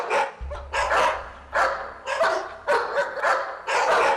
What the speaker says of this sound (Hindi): रवीश के दिए हुए टॉय डॉग से आवाजें आ रही थी।